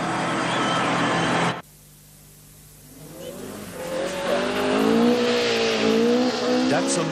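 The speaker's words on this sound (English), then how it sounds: "Datsun Stanza won the rugged 78 Southern Cross Rally just 3 weeks after its Australian launch." After an abrupt cut from other sound, a Datsun Stanza rally car in a 1978 Southern Cross Rally TV advert revs hard, its engine pitch swooping up and down, with brief tire squeal near the end.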